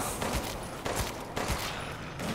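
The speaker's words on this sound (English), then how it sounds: "Felt so good to have a shotgun again." Three loud shotgun blasts from Resident Evil Village, evenly spaced about half a second apart, close and punchy with a brief rumble after each.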